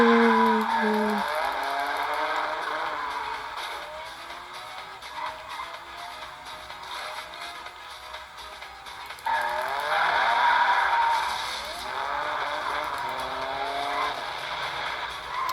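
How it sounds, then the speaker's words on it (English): A car in a racing video game slides through a drift, its engine whining and pitching up and down over continuous tire squeal, with a brief jump in loudness partway through. "Drift!"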